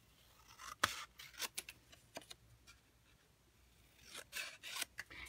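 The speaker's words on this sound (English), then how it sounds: "I'm going to just trim it up." Scissors trimming a stamped paper card, a series of short, crisp snips and cuts spaced irregularly across a few seconds, close and fairly quiet, with no talking.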